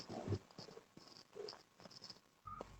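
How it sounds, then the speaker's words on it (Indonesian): A cat making soft, intermittent vocal sounds and purrs close by, quiet and uneven, with short pauses between them. "Maaf ya kalau ada suara meong-meong. Kucing ya."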